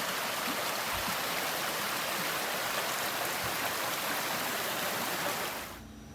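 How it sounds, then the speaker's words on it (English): A small woodland creek flows steadily, its dense, even rush of water close and constant before fading at the very end. "we have this nice little creek that we're going to post up next to"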